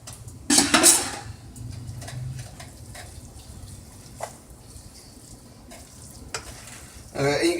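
Butter being worked into a black beans and rice roux in a pan, with a loud scrape and clatter of a utensil, softer stirring and faint sizzle, then a final clunk of cookware.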